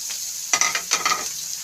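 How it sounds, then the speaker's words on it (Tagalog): Chopped onion, garlic and tomato sautéing in a pan give a bright sizzle and two short bursts of stirring scrapes, close up, with no talking. "Saute muna natin na medyo lalabas yung pinakaamoy niya guys, no?"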